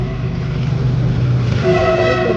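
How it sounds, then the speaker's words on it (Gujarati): A train rolls past a bridge near a temple on the pilgrimage route to Chotila, a loud, steady rumble of wheels and cars with a horn-like tone rising toward the end, close and without voices. "અત્યારે રેલગાડી જો નીકળી"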